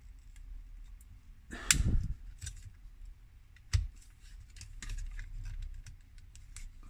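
Plastic parts of a G1 Soundwave reissue Transformers toy being folded and moved into place, light close clicks and snaps with a couple of sharper louder clacks, no speech.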